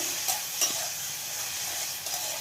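Food frying in hot oil for a mushroom and prawn paste dish, a loud, even sizzle close by with a couple of faint stirring clicks and no voices.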